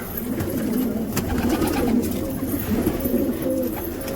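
Pigeons coo continuously in low, rolling murmurs, several birds close by, with steady background noise.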